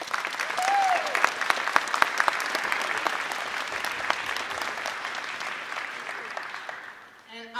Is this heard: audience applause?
yes